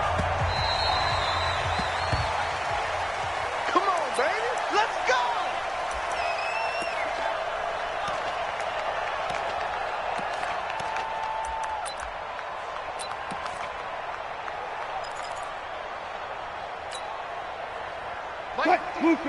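A stadium crowd roars and cheers in a Madden NFL game between the New Orleans Saints and Dallas Cowboys, a sustained wash of noise with scattered pings, while a commentator talks over it throughout.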